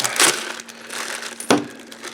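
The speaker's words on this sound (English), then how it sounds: "I guess I'm going to have to use a box cutter on this because the way they taped it up." A box cutter slicing through packing tape on a parcel of antique coins makes two sharp scraping rips, one at the start and one near the middle, with quiet handling in between.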